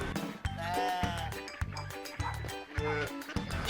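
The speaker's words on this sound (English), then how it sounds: "Sheep." A sheep bleats in a wavering, drawn-out call over a loud, rhythmic pulsing backing beat, with the animal cry fairly clear and close.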